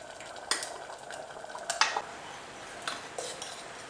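A spoon clinks and scrapes against a cooking pot as ground paste is stirred into a simmering papaya curry, with a handful of sharp, close taps spread over a soft background hiss.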